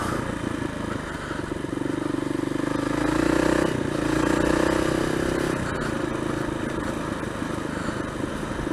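A KLR motorcycle engine runs close and steady while being ridden, swelling in loudness through the middle as it revs and shifts gears, with some clatter underneath.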